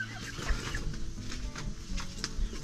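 Chickens cluck softly near a farm during a tomato harvest, scattered short calls against a quiet, low rumbling background.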